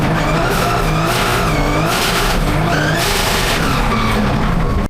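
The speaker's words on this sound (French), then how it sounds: "on accélère au maximum, on prend le maximum de vitesse, on va être full gaz" A drift car at full throttle on the Calmont touge roars loud and close, its tires screeching and skidding in long sweeping squeals over a continuous engine howl.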